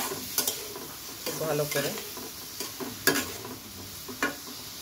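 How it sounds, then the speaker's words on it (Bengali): Spice paste with a splash of water is stir-fried in a pan, a soft sizzling hiss with scattered spoon scrapes and taps, and a brief voice speaking over it. "এখন একটু জল দিয়ে দিয়েছি, মশলাটা কষিয়ে নেব।"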